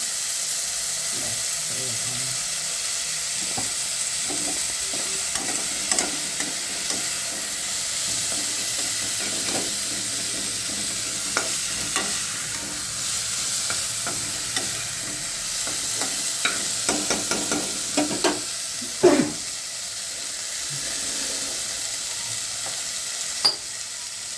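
Potol (pointed gourd) and moong frying in oil, a loud constant sizzle and hiss with scattered scraping stirs of a spatula, close up, with no speech.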